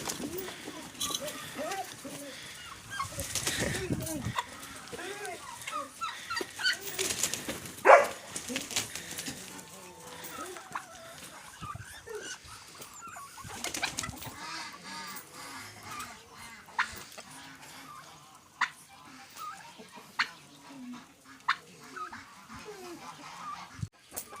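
Ducks quack and honk in a noisy flock nearby, with a dog barking now and then and a person talking over them.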